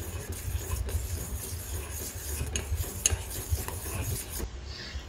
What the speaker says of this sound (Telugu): కస్టర్డ్ మిల్క్ వేయటం వలన పాలు బాగా థిక్గా వస్తాయి కాబట్టి మనం కంటిన్యూస్గా కలుపుకుంటూనే ఉండాలి